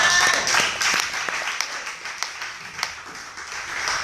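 A church congregation claps and applauds in praise, a dense, moderately loud burst of many hands that is strongest at the start and then thins into scattered claps.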